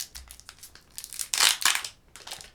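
A Pokémon booster pack featuring Lunala and Solgaleo is torn open by hand, with close, crisp crinkling foil and a louder ripping burst in the middle before the wrapper settles.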